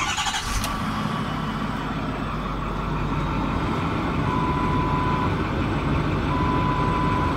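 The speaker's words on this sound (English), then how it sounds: "So now let's go ahead and start the engine." A 2010 Ford F250 Super Duty 6.4-liter Powerstroke turbo diesel V8 cranks briefly and catches, then settles into a loud, steady, rumbling idle close by, with a faint electronic chime.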